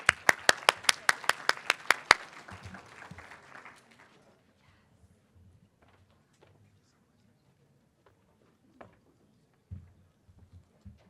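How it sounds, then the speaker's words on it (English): Applause greets a keynote speaker at a conference: a burst of loud, rapid clapping that dies away within about two seconds, followed by near quiet with a few faint thumps and movements. "Can I get a round of applause for Victor Armstrong?"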